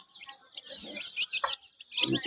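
Chickens on a farm cluck and chatter close by as they peck at jackfruit leaves, a busy run of short calls rising into louder squawks near the end.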